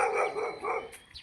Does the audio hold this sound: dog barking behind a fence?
yes